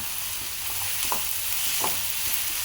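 Tomatoes frying in a pan and stirred with a utensil, a soft steady sizzle with a few light scraping strokes, close and moderately loud, with no talking.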